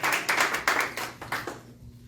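Scattered hand clapping from a church congregation, a burst of sharp claps that thins out and fades to quiet within about two seconds.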